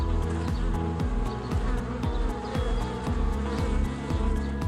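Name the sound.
buzzing of thousands of bees near wild apple trees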